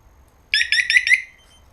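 A loud electronic alarm on a 2007 Yamaha R1 motorcycle chirps in four rapid, warbling bursts, then cuts off, with quiet background hum around it.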